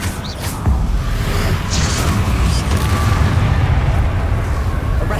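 Confringo and Expelliarmus spells fired in Hogwarts Legacy, a continuous loud roar of magical blasts with sharp bursting cracks layered over heavy rumbling impacts.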